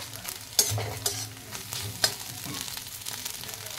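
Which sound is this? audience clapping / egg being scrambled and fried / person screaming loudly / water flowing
egg being scrambled and fried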